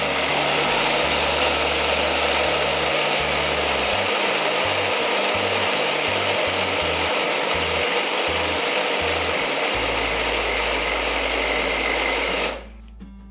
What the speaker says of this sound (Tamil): 1/2 கப் ஹாட் வாட்டர் போட்டு நம்ம இதை கொஞ்சம் நல்லா மிக்சியில் கிரைண்ட் பண்ணுறேன்